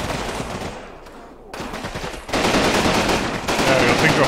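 An M1917 machine gun fires in Combat Mission during a World War II battle at Riva Ridge, sustained rattling bursts growing louder and denser over a few seconds, with faint voice underneath.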